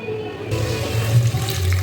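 Tap water runs steadily onto cut potatoes in a pot, set to parboil for chicken biryani in a home kitchen; a continuous close splashing flow starts abruptly and carries on throughout.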